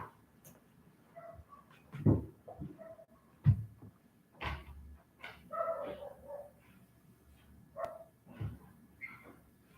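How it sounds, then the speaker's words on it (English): A household dog barks in a few scattered bursts, close by and moderately loud, with gaps of quiet room sound between the barks. "I want to see why the dog is barking."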